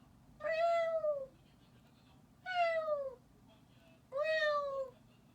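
A person imitating a cat's meow, three drawn-out falling meows spaced evenly apart, clear and close against a quiet background.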